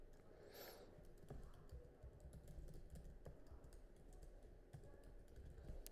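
Steady typing on a computer keyboard, a continuous run of soft, fast key clicks close by, with no talking over it.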